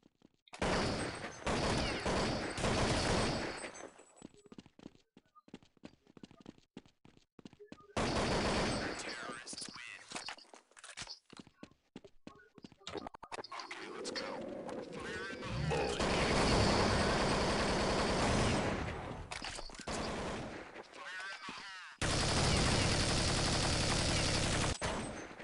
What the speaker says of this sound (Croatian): Malo pucam kroz zid.